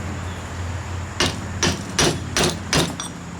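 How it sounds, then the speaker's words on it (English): Five sharp hammer blows drive a 39 mm socket onto a seal at the oil pump of an F4A42 transmission during a rebuild, evenly spaced, loud and close, with a faint low hum behind them. "Hammer this in."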